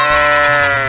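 A sheep gives one loud, close, wavering bleat that lasts the whole short moment.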